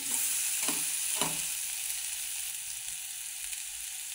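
Green tomato chutney, village style, cooks in a pan on low heat with a soft continuous sizzle, a few scraping stirs near the start, then a gentle bubbling hiss, close but fairly quiet.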